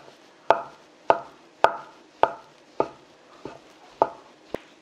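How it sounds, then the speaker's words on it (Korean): Shiitake mushrooms being sliced with a knife on a cutting board: eight crisp, evenly spaced chops close up, with quiet gaps between each cut. "표고버섯을 썰어보겠습니다."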